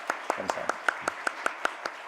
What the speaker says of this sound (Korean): 하나님께 한 번 더 영광의 박수를 올려드릴까요?